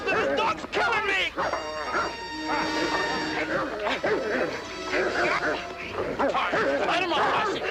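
A dog barks and yips frantically amid loud, overlapping shouting and scuffling, the commotion continuous and close throughout.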